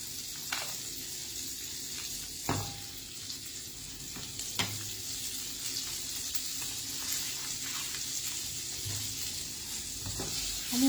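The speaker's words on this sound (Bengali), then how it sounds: "কড়াইটা গরম আছে, ওর মধ্যে কিন্তু বাটারটাকে গলিয়ে নিলাম" Unsalted butter melts in a hot wok with a steady, soft sizzle that runs throughout, broken by a few sharp clinks and scrapes of a utensil; no talking.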